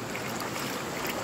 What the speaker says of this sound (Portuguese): Mas aqui é água corrente.